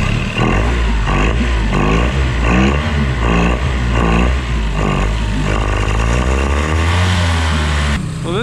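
A loud dinghy engine runs steadily and close with a pulsing, throbbing rhythm, its pitch rising slightly toward the end before cutting off.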